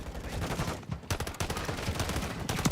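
Pistol fire in Call of Duty, a quick series of sharp shots at an uneven rhythm over busy game noise, loud and close with no voices.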